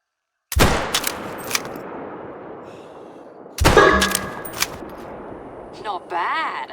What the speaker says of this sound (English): Try to shoot that target. Still using the rifle,